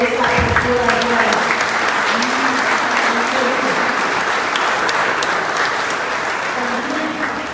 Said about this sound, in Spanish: les pido un fuerte aplauso por esta postura